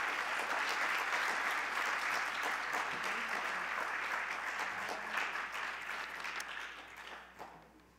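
An audience claps to welcome a speaker onto a lecture stage, steady, moderately distant applause that gradually thins and fades toward the end.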